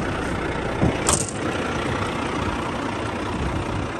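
A 2004 Kenworth W900 quad axle dump truck idles close by with a steady, dense diesel rumble, broken briefly by a short hiss of air release near the start.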